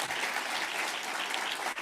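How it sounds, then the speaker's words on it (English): Steady round of applause from an audience at a conference welcome and opening session, a dense, even wash of clapping with no voices over it. "If we could just give them a round of applause."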